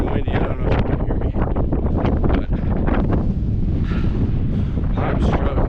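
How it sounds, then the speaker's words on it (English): Strong gusting wind on an exposed mountain slope near 12,000 feet in the Lost Creek Wilderness, roaring and buffeting the microphone constantly, with a hiker's voice faintly mixed in. "It's getting windy."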